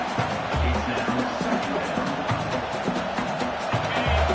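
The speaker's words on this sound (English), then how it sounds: "The roar of the crowd trying to fuel this defense to keep them pinned in their own end." A packed football stadium crowd keeps up a loud, steady roar from start to finish, a dense wall of massed voices during a defensive stand, with a few low thumps underneath.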